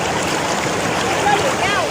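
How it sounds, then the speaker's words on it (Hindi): The Mandakini river near Kedarnath rushes past in a steady broadband wash, loud and close, with no clear speech over it. "ये मंदाकिनी नदी है जो बहती है"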